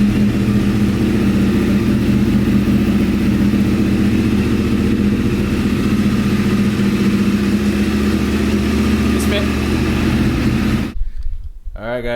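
A 2009 Yamaha R1 motorcycle engine idles steadily after a restart on a project bike being rebuilt, a continuous close mechanical hum that cuts off abruptly near the end.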